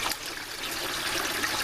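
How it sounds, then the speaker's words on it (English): Water flows steadily into a hydrocyclone in an aquaponics aeration system, a continuous close rushing trickle with no voices. "So the water's coming in, and you can see the cyclone action."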